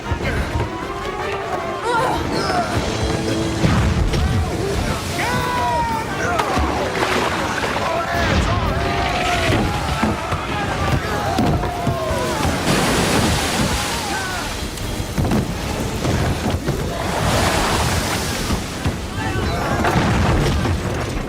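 A ship runs aground on a sandbar amid waves and wind, with heavy booming impacts and crashing water building into rough, churning surges while voices shout over the din.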